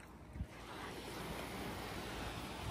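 Sea surf rolling onto the shore at Oamaru, New Zealand: a steady, fairly faint wash of breaking water with wind rumbling against the microphone and no talking.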